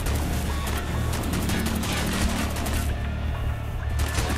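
Dense gunfire from the Call of Duty Black Ops campaign, including an RPK machine gun, with rapid overlapping shots and loud crashes in a continuous battle din that briefly dips before resuming.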